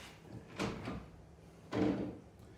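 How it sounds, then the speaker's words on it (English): Hardware of a tilt-turn door's 3-point locking mechanism clunks twice as the handle is lifted to engage it and a thumb screw is turned, quiet mechanical knocks with a gap between them and no talk. "So you lift up to engage the 3-point mechanism, and then you turn your thumb screw, and now it's locked."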